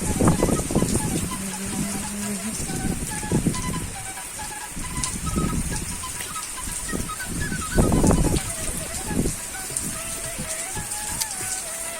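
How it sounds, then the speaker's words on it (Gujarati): Heavy rain pouring down in Morbi as water floods the streets, a dense continuous hiss of drops with louder bursts, and a voice speaking intermittently over it. "તમે જોઈ શકો છો એકદમ જબરજસ્ત વરસાદ પડે છે"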